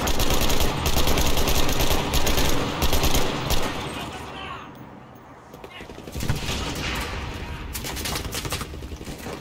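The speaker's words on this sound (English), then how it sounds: "An AA gun." Rapid anti-aircraft gunfire from the Enlisted video game, set in a Pacific War battle at Tenaru River, rattles in dense loud bursts that thin out midway and then resume, with a player talking over the shooting.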